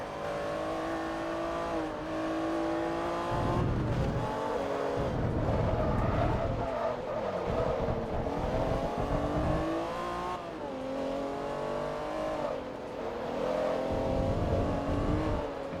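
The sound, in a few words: racing car engine in Forza Motorsport 3 video game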